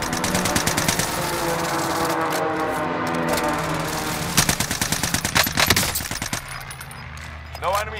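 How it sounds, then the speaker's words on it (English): Rapid gunfire and an airstrike run in Call of Duty: Modern Warfare on Caldera, sustained loud automatic bursts with a rumbling engine underneath, then sharp closer cracks before a quieter stretch. "Marking airstrike target. This is Phoenix 3. Strike inbound."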